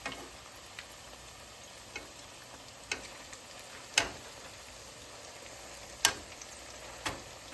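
Zucchini fritters fry in a pan of oil with a faint, steady sizzle, broken by scattered sharp pops and crackles of varying strength at irregular intervals, with no talk.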